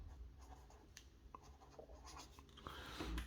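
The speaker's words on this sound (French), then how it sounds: "Je vais écrire en rouge" Someone writes in red marker, giving short scratchy strokes with small squeaks that come in quick bursts over a few seconds, faint and close.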